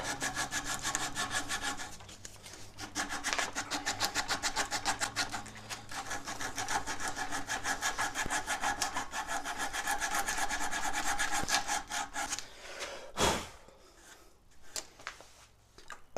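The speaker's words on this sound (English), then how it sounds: "Sandpaper." Sandpaper rubbing steadily back and forth over a carved wooden war club, a dense, continuous scratchy rasp close up, with a brief louder scrape near the end before the rubbing turns lighter and more intermittent.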